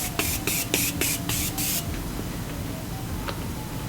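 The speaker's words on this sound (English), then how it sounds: "I could try it now because I didn't have setting spray." Six quick pumps of a makeup setting spray bottle in a steady rhythm, close and hissy, followed by quiet room tone.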